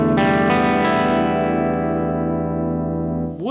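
A heavily distorted electric guitar chord is strummed with no string muting and left to ring, a thick, buzzing, harmonically dense sustain that slowly fades before a brief sliding squeal at the end.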